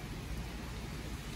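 Steady rain falls during a bike ride in the rain, a continuous broadband hiss with low rumble, fairly soft and unbroken throughout, with no voices.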